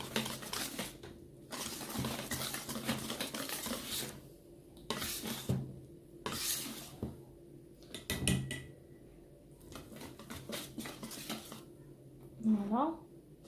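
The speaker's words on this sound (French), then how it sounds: "et les deux sachets de la vanille. Et je mélange encore." Brioche dough mixed with vanilla in a bowl, with repeated scraping and clinking of a utensil against the bowl in uneven bursts between quieter stretches, close up.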